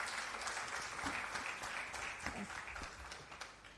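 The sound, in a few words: audience applause at a conference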